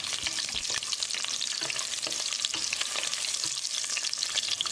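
Steady crackling sizzle of cashews and green chillies frying in hot oil, with faint scraping of stirring running throughout, loud and close.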